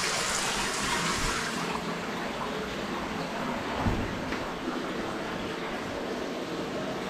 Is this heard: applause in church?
no